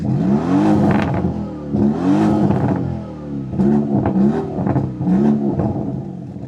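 The V8 engine of a Lamborghini Urus SE hybrid SUV revs repeatedly and close by. Four or five throttle blips rise and fall in a steady rhythm, each a deep, loud surge, with no talk.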